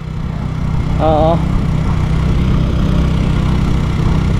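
A small engine runs at a steady idle after being started, with a continuous low hum throughout and a brief tonal whine near the start.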